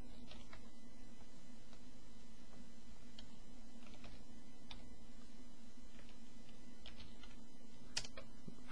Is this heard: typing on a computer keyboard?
yes